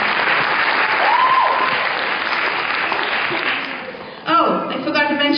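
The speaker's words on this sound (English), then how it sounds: "Give him a big round of applause." Loud, steady audience applause at a Rangapravesam dance recital, greeting performer Manju, with a brief whistle-like tone partway through; a voice comes in over the clapping near the end.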